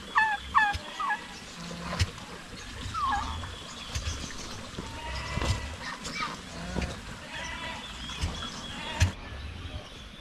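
Turkeys on a goat farm gobble in several bursts, close and fairly loud, amid scattered farmyard knocks and rustling, with no talk.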